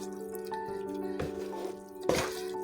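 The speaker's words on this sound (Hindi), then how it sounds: "इसमें मैं थोड़ा सा पानी ऐड करूंगी।" Water is poured and splashes into a pot of whole mash dal in a kitchen, with a couple of distinct splashy bursts over a background hum and no talking.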